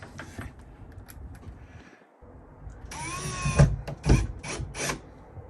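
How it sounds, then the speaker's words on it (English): A power driver sinks a screw into wood to fix a clasp in place, with brief buzzing bursts of the motor and clicking after a quiet pause, close and fairly loud, with no talking. "we'll just put one screw in to hold it"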